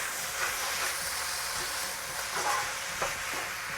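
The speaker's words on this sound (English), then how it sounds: "And now all I have to do is mix." A noodle sauce mixture seasoned with salt and black pepper is stirred in a bowl, making a continuous close scraping and swishing sound with a few sharper clinks along the way.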